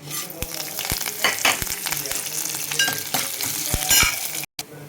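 A tempering of cumin, mustard seeds, urad dal, dry chillies and curry leaves crackles loudly in hot oil, with dense popping bursts and a spluttering hiss over a steady background, ending abruptly.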